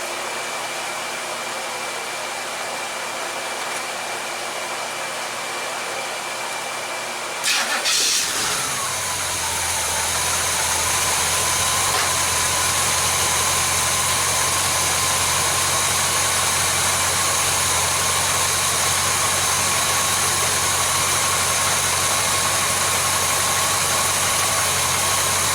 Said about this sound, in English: now we'll go ahead and start it up and see what the car does.